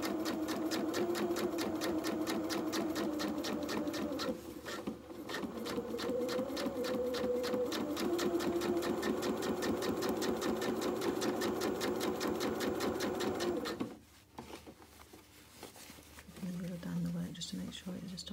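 Sewing machine stitching a waistband seam while letting out tailored suit trousers, a steady rapid mechanical whir running continuously before briefly stopping and restarting, with a person talking over it.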